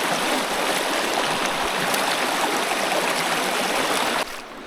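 A small creek runs at a junction of three creeks, producing a loud, steady rush of flowing water up close that drops off abruptly at the end.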